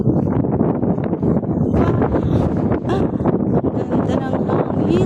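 Strong gusty wind buffeting the microphone in a loud, continuous rumble while walking in Singapore near Tanjong Pagar, with a voice speaking faintly in Filipino beneath it.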